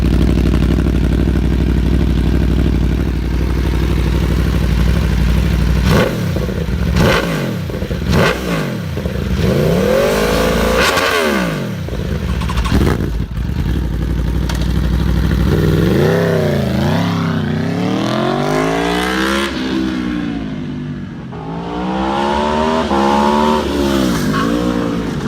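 An Aprilia RS V4 motorcycle engine barks through a series of sharp rising revs and quick drops, then holds longer sweeping high-rpm pulls, loud and close throughout with no talking.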